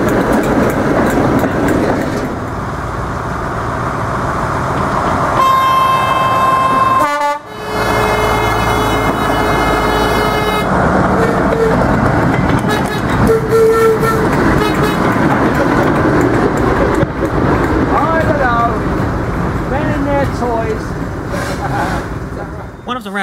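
Class 03 diesel shunter hauling a goods train at a diesel gala, top and tailed with a Class 08: continuous loud rail rumble and engine drone, with a sustained horn blast partway through and a sharp break in the noise.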